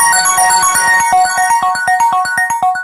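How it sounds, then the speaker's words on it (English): A phone ringtone chimes loud and near during a sports pick show, a fast run of evenly spaced electronic beeps in a repeating melodic pattern that stops abruptly after about three seconds. "Excuse my phone."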